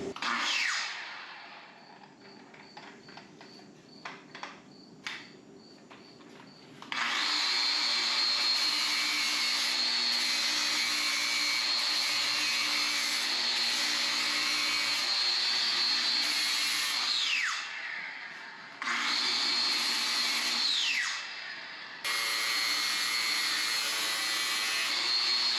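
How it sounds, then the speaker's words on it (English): A brushless DC pipe fitter's grinder whines loudly and steadily at close range, with a quieter stretch at first, then long sustained runs that spin down and restart a few times. "So this is like a pipe fitters grinder"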